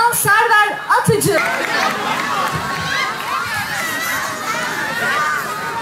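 An outdoor festival crowd greets a poet with cheering, shouting and clapping, a loud continuous roar of voices after a brief announcement, with children's shouts mixed in.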